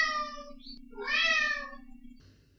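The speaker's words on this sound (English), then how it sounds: "like that of your cat meowing when dinner is presented" A cat meows twice, a short high call followed by a longer, rising and falling meow, close and clear over a steady low hum.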